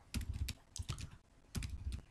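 Close, quiet clicks from a computer keyboard as code is typed, arriving in short bursts of keystrokes with small gaps between them.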